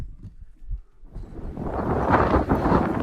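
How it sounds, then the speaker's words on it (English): Low rumbling gusts of wind buffeting the microphone outside a tiny off-grid cabin, starting with a few thumps and swelling into a steady, loud roar. "Oh, windy."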